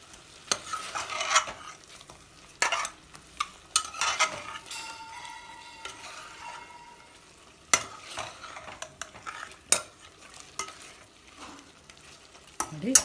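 Ginger garlic paste frying in oil in a pan for a chicken masala, a soft continuous sizzle broken by repeated sharp scrapes and clinks of a spoon stirring against the metal.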